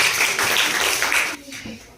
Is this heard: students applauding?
yes